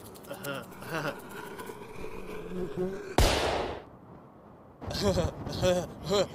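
A single sharp firecracker bang cuts through people chatting, its crack decaying quickly before the voices resume.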